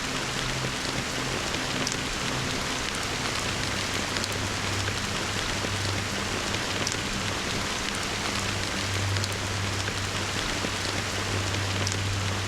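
Steady rain falls in Honkai: Star Rail, a continuous, even hiss of drops spread evenly across the whole stretch, with a low hum underneath and no voices.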